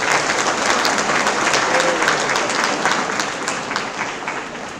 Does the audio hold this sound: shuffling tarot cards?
no